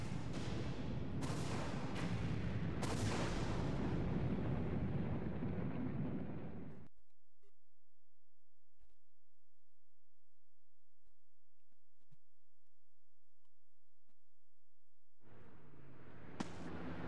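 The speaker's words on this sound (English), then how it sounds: "And for the fourth time, the egg carrier has exploded." The Egg Carrier airship explodes in the video game Sonic Adventure, a loud rumbling blast with several sharp bursts that roars for several seconds, then cuts to silence before another brief burst of sound returns.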